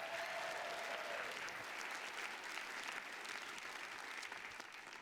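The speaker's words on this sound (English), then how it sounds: "Give Pasadena a round of applause." Sustained crowd applause at the Rose Queen announcement and coronation ceremony in Pasadena, broad and even, fading slightly toward the end, with no talking over it.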